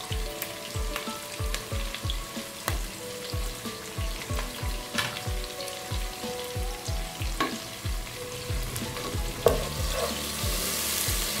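Tomato and grated ginger frying with potato and cauliflower for aloo gobi, a close sizzle under a fast, regular run of spoon scrapes and taps against the pan, continuing throughout without talk.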